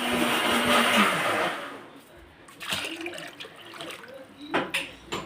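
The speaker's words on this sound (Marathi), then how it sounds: "आता बघा पाणी टाकायचं आपल्याला." Water is poured from a mug into a hospital tub with a loud, rushing splash for about two seconds, then it goes quieter, with a few softer splashes and knocks following.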